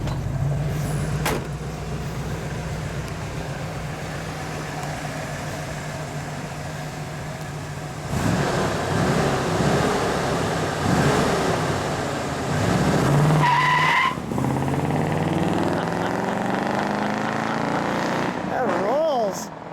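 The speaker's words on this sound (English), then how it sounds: "That was a real good Buick sound." A 1964 Buick Wildcat with a 425 Nailhead V8 pulls away hard from a standstill, a deep engine roar that rises through the gears with tire noise. The car is loud and close, and people talk over it.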